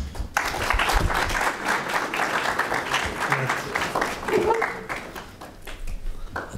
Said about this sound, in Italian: salutiamolo con un applauso